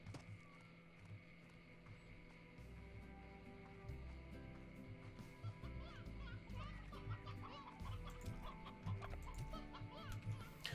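Hens cluck in the farm-simulation game Slime Rancher, with soft repeated clucks over a steady bed of game music and ambience lasting throughout.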